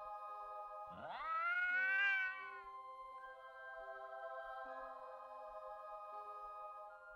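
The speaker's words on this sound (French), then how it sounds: "aperçois devant toi Miss Teigne, le chat de Rusard" A single drawn-out cat meow rises and falls clearly over a steady background hum, followed by quieter sustained tones.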